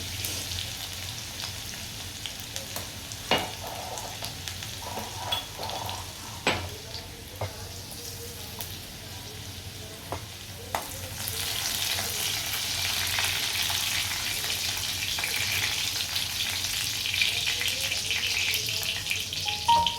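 Minced garlic fries in a pan for paneer bhurji, a steady sizzle punctuated by utensil taps, swelling into a louder, denser hiss partway through.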